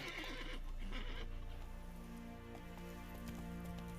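Roach the horse neighs in The Witcher 3, a clear, fairly close whinny near the start over a steady bed of game ambience and music.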